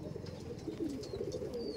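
A young red Madras pigeon coos softly and steadily at close range over faint background noise.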